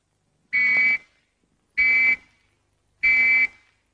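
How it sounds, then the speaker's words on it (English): Three long, shrill whistle tones sounded as a fallout warning, one after another, each lasting about half a second and separated by roughly a second of silence, loud and steady. "Or 3 whistles."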